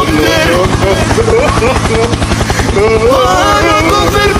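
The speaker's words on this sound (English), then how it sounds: "Helicopter! Helicopter!" Steady rapid thumping of video game helicopter rotors with engine drone, loud and continuous, while harmonic tones and voices sound over it.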